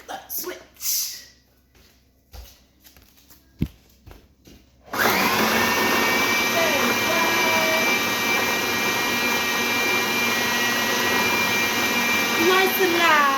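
An electric mixer creams butter and sugar for chocolate chip cookie dough. A few scattered clicks and knocks come first, then the motor switches on with a loud, steady whirring whine that runs close and continuous to the end.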